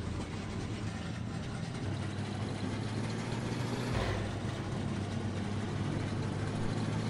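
Steady engine drone of a car driving in the video game The Wasteland Trucker, a continuous low mechanical hum with broadband road noise, holding even throughout with a slight shift midway and no talking.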